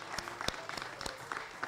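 Audience applause at a university athletics senior graduation celebration, a short burst of scattered, fairly faint clapping heard from a distance.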